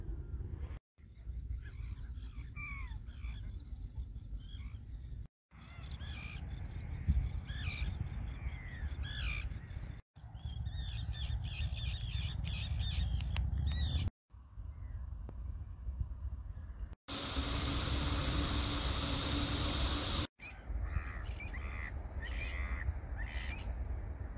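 Exotic bird calls and crows cawing on Pandju island, heard in short separate segments: repeated caws and varied chirps over a soft background, one segment filled with a steady hiss.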